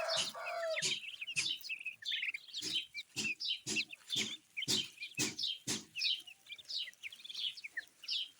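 Soft, rapid peeping and chirping from ducklings and guinea fowl chicks, steady and close, with short repeated calls and no talking.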